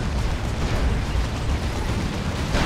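A Leman Russ tank destroyed in the Dawn of War 2 real-time strategy game: a dense, loud, continuous wash of explosions and bursting battle noise filling the short moment, with no talking.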